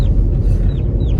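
Dual-purpose heritage chickens cluck close by, with a few short, loud clucks over a low, dense rumble.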